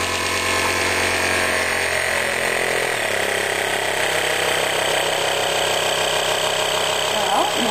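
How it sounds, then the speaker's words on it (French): A VACSY vacuum sealing machine pumping air from a bag, a loud, steady mechanical drone with a buzzing motor whine whose pitch drops slightly partway through, running close and continuous. "on descend la machine, on fait un clic d'un côté, un clic de l'autre. Et là on appuie sur Start"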